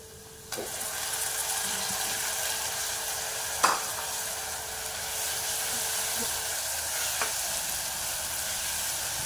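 Onion and chili paste hits lightly fried onion in a pan, setting off a sudden steady sizzle that holds throughout, with a sharp utensil knock midway and a few faint clicks.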